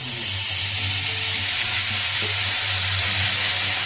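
Straw mushrooms fry with onion sauce in a hot pan, producing a loud, dense, unbroken sizzle heard close up with no talking.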